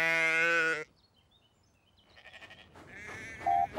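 Cartoon sheep bleat in a loud, wavering cry at the start, followed after a quiet pause by fainter bleats and a few short squeaks.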